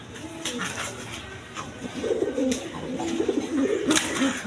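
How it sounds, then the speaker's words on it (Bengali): Lahori pigeons of the Shirazi type coo at close range in low rolling phrases that grow fuller toward the end, with some rustling and brief clicks in the background. "যে লাহোরি কবুতর, সিরাজি লাহোরি দেখেন, আপনারা নিতে পারবেন।"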